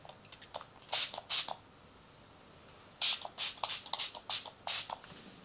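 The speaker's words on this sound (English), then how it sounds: "Let me set my face with the setting spray before I go." Quick bursts of hissing makeup setting spray, a couple of pumps, a pause, then a rapid series of short sprays close to the microphone.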